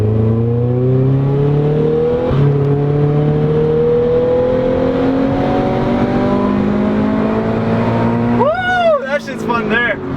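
A supercharged Subaru BRZ engine revs hard under acceleration, its rising harmonic whine climbing steadily for several seconds. A brief shift follows, then the engine climbs again, loud and close from inside the car. A shout joins near the end.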